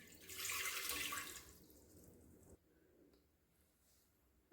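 About one and a half glasses of water pour into a pressure cooker fitted with a stand in a home kitchen, a brief hissing splash for a second or so, then fading to quiet clinks and faint room noise.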